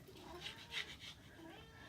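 A cat meows a few times in short, fairly faint calls over quiet background noise, with no talking.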